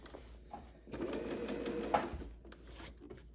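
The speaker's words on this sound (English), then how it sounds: "Do some quick back stitch." A sewing machine runs a quick back stitch on a cloth face mask, a short close burst of fast needle whirring.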